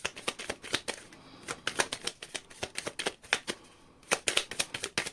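Tarot cards being shuffled by hand, a steady run of crisp riffling bursts repeating several times with a brief pause near the end, close and clear with no talking.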